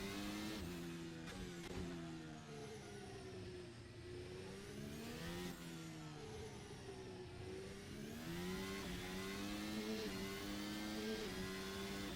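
An F1 car in the Assetto Corsa racing game, its high-pitched engine droning and rising and falling through gear changes as it laps, heard alone and fairly steady throughout.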